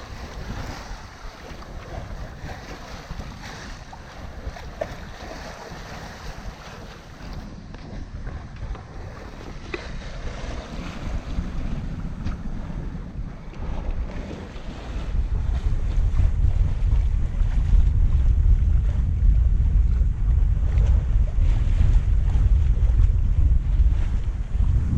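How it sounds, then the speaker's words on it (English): A sailboat crosses Bjørnafjorden under wind, with a steady rush of wind buffeting the microphone and water swishing along the hull, growing louder and deeper in the second half. "So now it's just to let the wind carry us across Bjørnafjorden."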